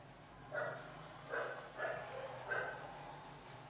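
Dogs barking outdoors at night, a few short barks in quick succession, fairly faint and distant over a steady low background hum.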